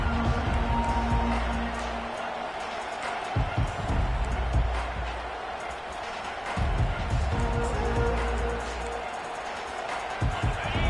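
A stadium crowd in the College Football 25 video game roars steadily throughout, with swells of cheering under a commentator's voice.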